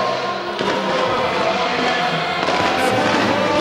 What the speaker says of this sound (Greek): τα βεγγαλικά που εδώ και αρκετή ώρα το ξέρονται μέσα από το γήπεδο τους ουρανούς